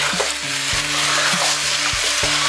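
Mutton with ginger garlic paste sizzles loudly in a pan as it is stirred, a steady close frying hiss broken by repeated scraping strokes of a spoon against the metal.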